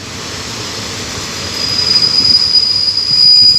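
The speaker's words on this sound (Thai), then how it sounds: "มาแล้วครับกับขบวนรถเร็วขบวนที่หนึ่งเจ็ดหนึ่งนะครับ" Rapid train 171 from Bangkok Aphiwat to Sungai Kolok rolls into Taling Chan Junction station, a steady rumble of wheels on rail that grows louder toward the end, with a thin high wheel squeal joining midway and no voices.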